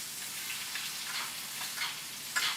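Butter foams and sizzles steadily in a hot pan beside a porterhouse steak, a soft continuous crackle with small pops rising now and then, fairly quiet and close, with no talking.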